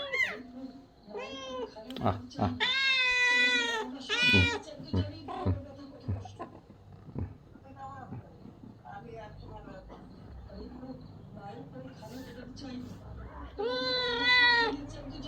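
A cat that has recently given birth meows repeatedly, loud and close, in drawn-out calls in the evening before dusk, while someone talks in between and a voice makes brief sounds.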